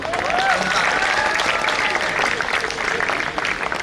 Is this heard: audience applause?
yes